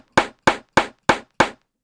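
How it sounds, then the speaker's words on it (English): Layered drum sample hits played back in Impact XT stack mode: five sharp, identical snappy percussive hits at an even, quick pace, each with a short decay, alone and dry. "maybe I want more of this snap, this or this pop or whatever you want to call it"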